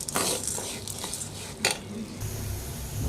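Coriander, cumin, mustard and fenugreek seeds fry over low heat in a pan, with a soft sizzle under clinks and scrapes of a metal spoon stirring against the pot.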